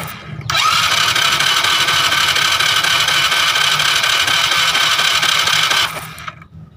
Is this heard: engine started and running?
yes